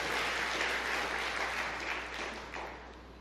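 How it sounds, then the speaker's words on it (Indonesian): Congregation applauding in a church during a sermon, a dense steady wash of clapping that fills the room and tapers slightly toward the end. "Ah berikan tepuk tangan yang meriah buat Tuhan."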